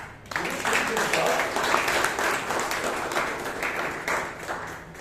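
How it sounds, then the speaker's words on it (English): Audience applause at a Toastmasters club meeting in Bangalore, a steady wash of clapping from a room of people lasting several seconds, with voices mixed in beneath it. "we really need to appreciate him with a round of applause"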